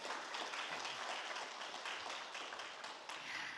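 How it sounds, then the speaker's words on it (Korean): Steady, full applause from a forum audience at a joint university innovation event, many hands clapping continuously at a fairly close, even level throughout. "여러분 다시 한번 큰 박수 부탁드리겠습니다."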